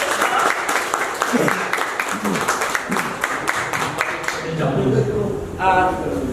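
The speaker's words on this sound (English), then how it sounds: "Can you have a big round of applause?" An audience claps for a volunteer at a tech community event with a Toastmasters demo meeting, scattered applause running under loud, continuous talk and cheering voices throughout.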